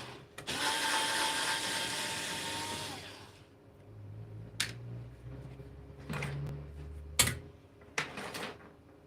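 Screws being backed out of the cover on a solar hybrid inverter with a power driver: a loud whirring burst for about three seconds, then low rumbling handling and several sharp clicks and knocks close by.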